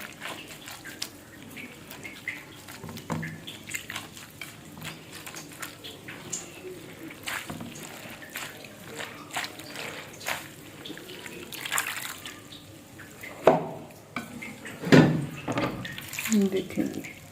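Grated potatoes swished in a dish of water for a second wash: soft splashes and sloshing water throughout, growing louder toward the end, with speech in between.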